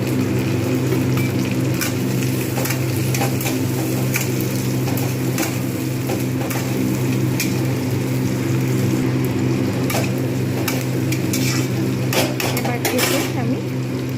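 Onions, softened and reddish, sizzle steadily in a pan as tomato is added, with a continuous frying hiss, occasional utensil clinks and a voice talking over it.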